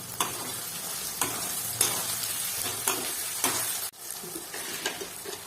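Tomato goes into garlic frying in a pan and is stirred, giving a continuous close sizzle broken by regular scraping strokes of the spoon about once a second. The sizzle drops briefly partway through, then picks up again.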